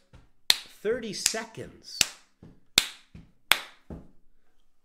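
Light hand claps land on the offbeats of a slow counted rhythm as body percussion for ukulele strumming practice, six sharp crisp claps spaced about 0.75 seconds apart with someone talking between and around them.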